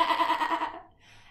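A sheep bleats loudly and close in a single drawn-out, wavering call lasting under a second, then fades to quiet.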